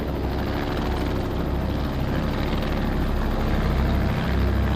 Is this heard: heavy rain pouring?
no